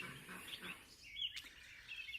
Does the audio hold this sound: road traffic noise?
no